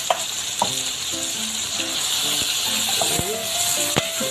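Chicken and canned button mushrooms sizzle steadily in a frying pan while a utensil stirs and scrapes through them, with occasional clinks against the pan over the continuous frying hiss.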